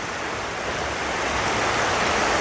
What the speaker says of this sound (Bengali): যেরম বৃষ্টি সেরম বাতাস সেরম ঠাড়া পড়ছে খানিক পরে পরে সঙ্গে সঙ্গে ওঠি দেখেন কত বৃষ্টি পড়তেছে